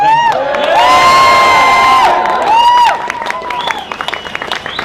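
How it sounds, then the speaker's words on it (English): A crowd at a Brexit Day rally in Scotland cheers, whoops and shouts loudly, with sustained voices at first giving way to rising applause and clapping. "another big round of applause, please"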